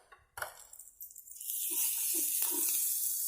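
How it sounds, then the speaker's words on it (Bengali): Water is poured into a cooking pan holding dried fish and spices: a few clinks and knocks, then a steady, rushing pour that fills the rest of the moment. "দিয়ে আমরা পানি দেব"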